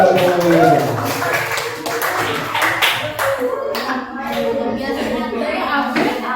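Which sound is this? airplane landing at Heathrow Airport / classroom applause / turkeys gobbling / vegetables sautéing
classroom applause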